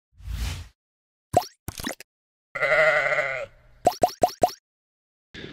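Sheep bleat several times while being herded in, with short sharp calls and one longer wavering bleat, close by amid brief rustles and thumps.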